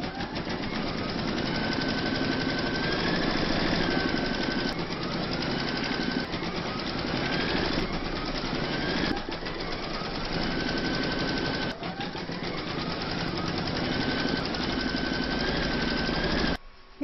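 An embroidery machine stitches a quilted Celtic topper held in a hoop, sewing a securing round through fabric and batting with a steady, loud, continuous mechanical whirr and rapid needle clatter, unbroken and without voices.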